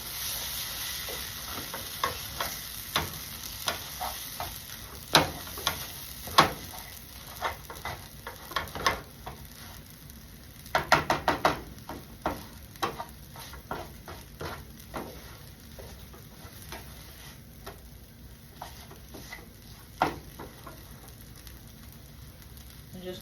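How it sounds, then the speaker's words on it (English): Mung bean and egg mixture scrambled in a frying pan, a steady sizzle under repeated scraping and stirring strokes from a utensil, with brief clusters of sharper clacks against the pan. "But we're just gonna scramble it."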